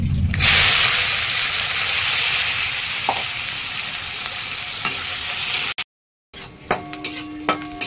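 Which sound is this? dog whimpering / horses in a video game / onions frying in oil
onions frying in oil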